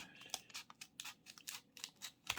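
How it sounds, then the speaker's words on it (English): Scissors cut through folded paper for a snowman snowflake craft, making a quick irregular series of close, quiet snips and crisp paper rustles. "we're going to grab our scissors"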